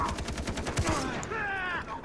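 Gunfire in the video game Far Cry 3 on Xbox 360, a rapid burst of automatic shots with a clear rhythmic pulse, followed by ringing, echoing tails, moderately loud.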